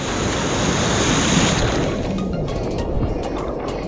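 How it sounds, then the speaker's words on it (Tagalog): Continuous roar of large ocean surf at a beach in Agno, Pangasinan, with waves washing in, broad and rushing, mixed with wind noise on the microphone. "Malaki pa sa akin yung alon."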